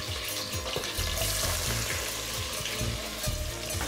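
Green chillies and onion fry in hot oil for a paneer pulao, giving a steady close sizzle broken by the scraping and stirring of a spatula in the pan, with no voices.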